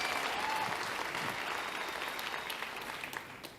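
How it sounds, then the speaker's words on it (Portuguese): Steady audience applause from a congregation, dense and sustained clapping throughout, tapering slightly at the end with no talk over it. "Aqui a gente aplaude pessoa também, não é mesmo?"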